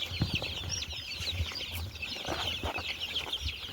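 Desi aseel chicks, about 150 young birds on a farm, clucking and cheeping continuously at close range, a busy overlapping chorus with occasional louder calls and no talking.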